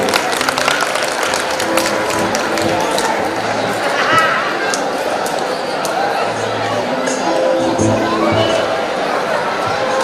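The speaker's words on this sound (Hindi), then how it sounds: "तो अध्यक्ष जी के लिए जरा जोरदार ताली हो जाए" A hall crowd at a closing-night town festival prize ceremony claps steadily for the municipal council chairman, with a dense, continuous wash of applause mixed with chatter and voices for the whole stretch.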